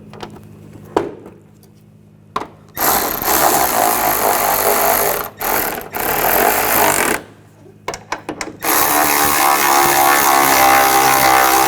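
Power tool driving the hood hinge bolts on a 2004-2008 Ford F-150, loud close whirring bursts that stop and restart several times between short quiet gaps.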